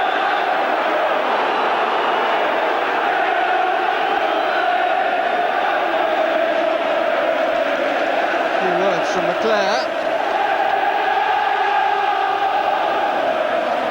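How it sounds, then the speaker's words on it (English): Football crowd at an Oldham v Manchester United FA Cup semi-final, a dense sustained roar of boos and jeers filling the stadium, with a commentator talking over it. "The boos are from the crowd"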